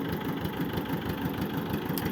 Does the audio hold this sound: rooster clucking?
no